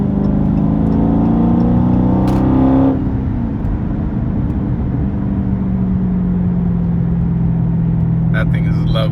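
A car with a mid-muffler delete revs and then settles, its exhaust giving a loud, deep droning burble up close, with a brief pop and rattle near the end and a voice heard over it.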